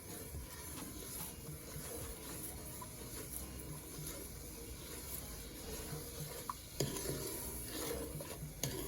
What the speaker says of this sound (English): you need to keep stirring so as not to burn the sugar